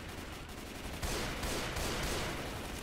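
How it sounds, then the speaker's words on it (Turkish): Dense, continuous gunfire from the video game Left 4 Dead 2, rapid overlapping shots in a loud, steady barrage with no voices. "Mermiler size geliyor şu an"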